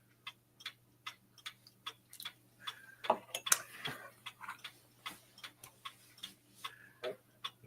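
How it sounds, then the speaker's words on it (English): A Tempus Fugit mechanical clock ticks in a steady, even rhythm, close and fairly loud, with a brief rustle of other movement partway through. "The ticking clock is like ASMR."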